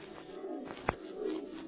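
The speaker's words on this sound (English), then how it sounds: "that was just an old screech owl" Old radio drama sound effect of a screech owl, a soft hooting coo from a bird set against low background noise, with one brief sharp click in the middle.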